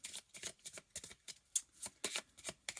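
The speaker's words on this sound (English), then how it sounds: "Here, I'll shuffle in front of you guys. I know you can hear it." Repeated crisp riffling bursts of tarot cards being shuffled, several quick rounds in a steady rhythm, close and fairly quiet.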